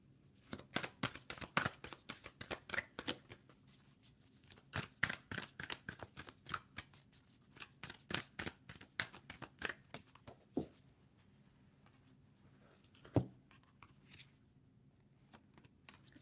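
Cards of a Moonology oracle deck are shuffled in a rapid run of crisp riffling flicks for about ten seconds, then pause, with a single sharp snap near the end in an otherwise quiet room.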